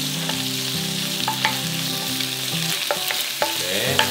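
Squid stir-fries in hot scallion oil seasoned with pepper, making a bright continuous sizzle with spatula scrapes and taps, while gentle music plays underneath.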